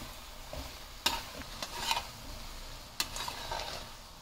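Bread pieces and vegetables being stirred in a pan over gentle heat: a soft background sizzle broken by scraping strokes and two sharp utensil knocks against the pan, close by with no talking.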